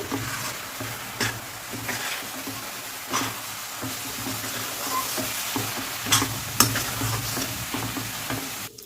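Coconut burfi mixture with milk powder being stirred in a pan: a spoon drags and scrapes through the thick mass in repeated close strokes over a soft continuous sizzle, with occasional sharper scrapes and no voices.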